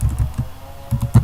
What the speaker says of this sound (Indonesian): Misalkan kita mengetik